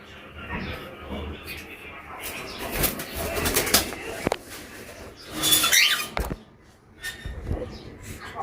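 Cockatiels in a breeding aviary give scattered sharp chirps and calls, with bursts of wing flapping and rustling nearby, at a moderate, uneven level.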